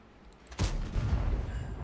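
A single heavy cannon shot, an armour-piercing round fired from a Nergal tank in a tank video game, booms out loud and close, followed by a low rumbling tail.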